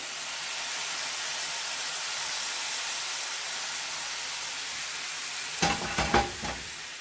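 Mushrooms and bacon sizzle in a pot with sauteed onion, carrots and celery for a pot pie. A steady, close frying hiss runs throughout and ends in a few sharp utensil clatters.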